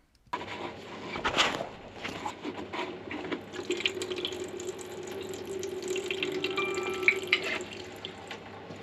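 Water drains through a hospital macerator pipe that had been blocked, a continuous close gurgling and trickling flow with splashy drips and faint mechanical clinks, steady and moderately quiet.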